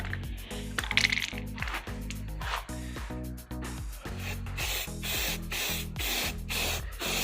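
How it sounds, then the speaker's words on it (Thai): Cheap ATM-brand spray paint hisses from a can in repeated short bursts, giving bright airy spurts over a steady rhythmic background, up close and fairly loud. "พ่นสี ATM หรือสีที่ค่อนข้างจะมีราคาถูกนะครับ"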